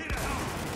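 Gunfire from the Dubai-set shooter game Spec Ops: The Line, a dense, continuous rattle of shots and explosions filling the whole moment at steady loudness.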